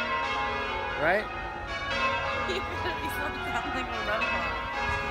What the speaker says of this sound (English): It could at least make these bells sound a little attractive.